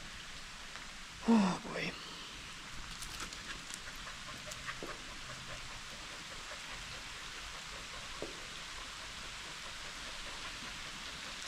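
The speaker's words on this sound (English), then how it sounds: "Gonna hang out here until the rain slows up a bit." Rain falls steadily outdoors on a hiking trail, a soft continuous hiss with scattered faint drips throughout, and a brief voice speaks near the start.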